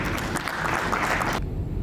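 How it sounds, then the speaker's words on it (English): Applause from an audience at an academic brainstorming meeting, a steady patter of clapping that stops abruptly near the end, leaving a faint murmur of room noise. "Have a big round of applause"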